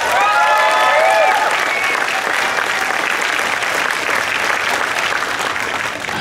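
A convention crowd breaks into sustained, loud applause with some cheering, steady clapping filling the room for about six seconds after a brief vocal shout at the start.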